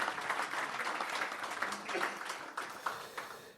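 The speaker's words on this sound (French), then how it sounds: "je pense qu'effectivement on peut les applaudir" Audience applause fills the room after a round-table discussion at a French conference, a dense, steady wash of many hands clapping that holds throughout and tapers slightly toward the end.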